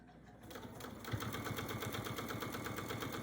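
A sewing machine runs steadily while stitching quilt binding, its fast regular mechanical chatter starting after a brief quiet moment and continuing evenly at close range.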